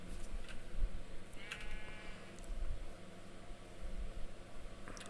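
A Minecraft sheep bleats close by, one clear wavering baa rising over a constant hiss of background noise.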